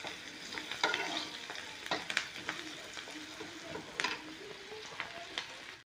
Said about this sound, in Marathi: आपल्याला हे कांदे थोडेसे लालसर होईपर्यंत शिजू द्यायचे आहे।